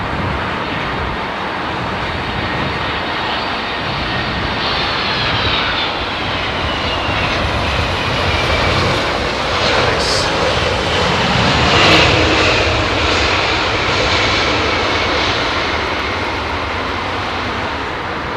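Aircraft landing at London Heathrow in low visibility, a loud continuous jet engine roar with a rising whine that swells and fades as it passes fairly close over about eighteen seconds.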